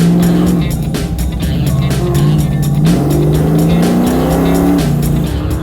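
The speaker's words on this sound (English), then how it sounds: "I am literally the last car on the track." Dodge Challenger with vanishing paint on an autocross track at dusk, engine roaring loud and close as it accelerates, shifts and rises in pitch through repeated pulls.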